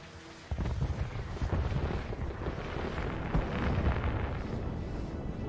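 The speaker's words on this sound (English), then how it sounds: "At least the fireworks are pretty, though." Fireworks burst in the game Hitman (2016), Paris mission, with a muffled rumbling roar and scattered booming pops that keep going for several seconds.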